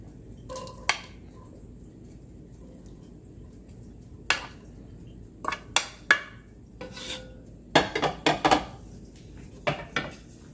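Chopped onion tipped into warm avocado oil in a pan, with scattered clinks and scrapes of a utensil against the pan, several sharp knocks spread over the clip and no steady sizzle standing out.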